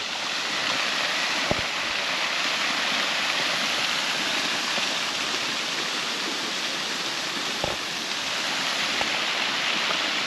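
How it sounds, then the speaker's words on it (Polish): A small mountain stream runs beside a building on a hillside, a steady, full rushing and babbling wash of water close by that holds constant for the whole stretch with no voices. "tuż przy tym budynku mamy strumyk."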